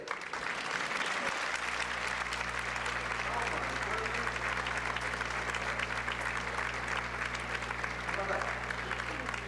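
An audience at a Johns Hopkins Symphony Orchestra children's concert applauds the composer, broad sustained clapping that starts abruptly and holds steady over a low steady hum, fairly distant in a large hall.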